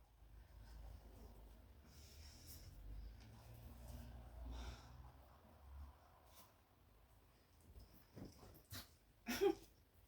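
A dog snorts and whimpers softly at close range, with a few louder huffs and yelps near the end over a low background rumble.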